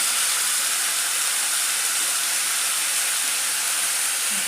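Two green chilies hit a hot pan and sizzle, a steady, bright, even hiss that holds without a break from start to finish.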